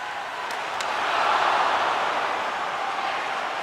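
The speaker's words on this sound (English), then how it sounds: "the crowd's on their feet, saluting the team after a hard-fought effort this evening" Crowd at a hockey game cheers and applauds as the fans stand to salute the team, a broad steady roar that swells slightly and holds throughout.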